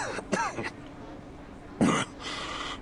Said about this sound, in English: A passenger leans there, coughing hard